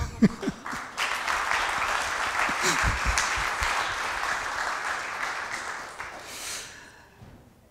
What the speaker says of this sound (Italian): vi chiedo un applauso per Francesca perché è emozionatissima.